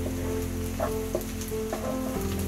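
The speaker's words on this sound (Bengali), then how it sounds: "এখন পেঁয়াজটা ভাজা হওয়া পর্যন্ত অপেক্ষা করব। এটা ভাজতে হবে, কিন্তু খেয়াল রাখতে হবে যেন পেঁয়াজটা পুড়ে না যায়।" Onions fry in a pan for a Bengali hilsa fish do-pyaza, giving a dense, continuous close sizzle with a few soft stirring clicks scattered through it and no voices.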